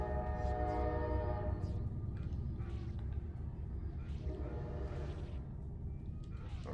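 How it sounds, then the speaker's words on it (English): A train rolls past a house, a steady low rumble with a horn-like tonal layer sounding throughout, loud and close, without speech over it. "there's a train coming by my house"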